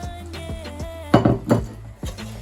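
Meat goes back into a pot of Senegambian meat jollof rice, benachin, with a few close clinks and a soft thud from the pot and spoon, over a steady background hum.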